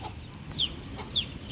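A chicken in a village yard clucks twice in short high calls over a low ambient background, close by and fairly quiet, with no talk.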